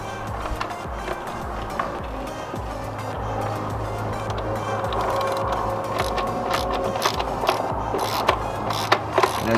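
A ratchet with an E7 socket removes engine studs on a BMW F30 335i during oil filter housing gasket work, producing continuous mechanical clicking and rattling up close amid workshop noise, with no voices.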